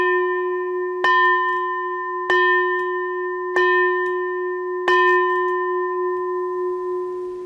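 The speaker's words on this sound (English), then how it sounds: "We end now by ringing the bell of invincibility for every nation and for" A single bell in a closing ritual is struck four times at a steady, unhurried pace, each clear metallic strike ringing on with a long, bright sustain that blends into the next before fading out at the end.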